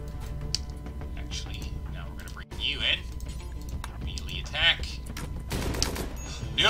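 Bursts of small-arms fire crackle during a raid in the colony-building game RimWorld, scattered rapid shots over a steady game background, with a voice present.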